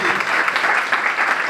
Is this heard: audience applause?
yes